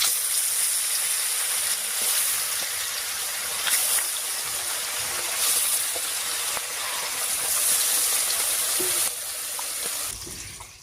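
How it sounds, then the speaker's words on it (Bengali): China puti fish coated in salt and turmeric frying lightly in oil, giving a constant loud hissing sizzle, broad and steady and close up, easing slightly toward the end. "মাছটা মাখা হয়ে গেছে, এবার হালকা করে ভেজে নিচ্ছি।"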